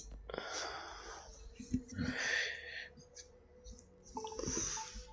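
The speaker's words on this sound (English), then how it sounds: "Oh, the yawning has caused me to have eye leaks." A person yawns at close range, with long breathy, wheezy exhalations and strained vocal sighs stretching across several seconds.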